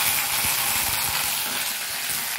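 Ginger paste frying in a pan with hing, cardamom, cloves, cinnamon and bay leaf, a steady close hiss of sizzling oil with faint scattered stirring clicks underneath, no voices.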